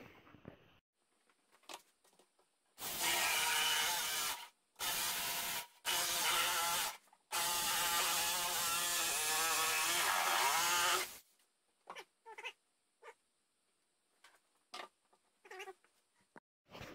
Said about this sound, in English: my jigsaw is going to go. We're going to cut right through in there.